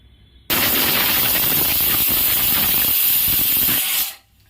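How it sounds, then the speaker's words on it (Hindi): Pressure cooker cooking chana dal on high flame vents steam through its whistle: one loud, steady rushing hiss that starts abruptly, holds for about three and a half seconds, then cuts off. "हाई फ्लेम पर 1 विसिल हो चुका है।"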